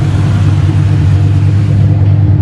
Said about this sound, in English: Spinning tire.